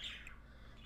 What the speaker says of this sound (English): I love my birds. They're such awesome pets.